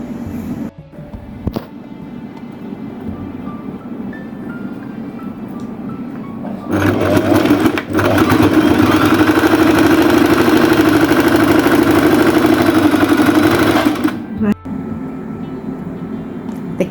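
A sewing machine stitches along a folded kaftan belt in a steady, continuous motor whir for several seconds, rising loud over quieter room sound before stopping.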